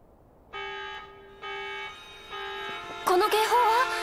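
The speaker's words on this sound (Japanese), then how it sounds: "この警報は？" An alarm sounds in the video game Xenoblade, a buzzing electronic tone pulsing in three long bursts, then joined by a warbling, rising-and-falling siren at the end, loud and clear.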